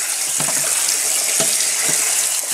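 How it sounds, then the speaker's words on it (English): Cold tap water runs steadily through mushrooms sitting in a colander, a continuous hissing splash with a few soft patters of water hitting the mushrooms. No one speaks. "Going to run cold water through them."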